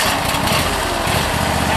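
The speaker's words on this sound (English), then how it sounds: "To start the unit, you flip your ignition switch on," The engine of an ICS P95 hydraulic power unit runs at a loud, steady, buzzing drone, close by and unbroken for under two seconds.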